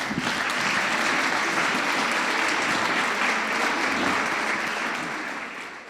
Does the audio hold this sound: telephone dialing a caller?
no